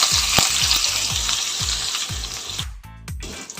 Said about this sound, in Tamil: இப்போ வெங்காயம் போட்டாச்சு.